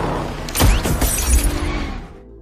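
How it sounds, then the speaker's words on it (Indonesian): A bullet strikes a car window and the glass shatters in a sharp, loud burst. A crunchy, crackling spray of breaking glass follows and fades over about two seconds. "peluru yang dilepaskan oleh wanita bernama Lady Jane ini hanya mengenai kaca mobil"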